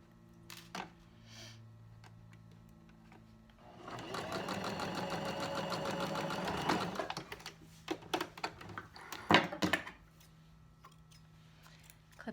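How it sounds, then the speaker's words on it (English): A sewing machine runs steadily for a few seconds stitching a cornered seam, a fast dense whirring chatter, then stops and gives way to scattered clicks and handling noises. "you switch it back to your regular stitch length, and you continue sewing up that stitch line"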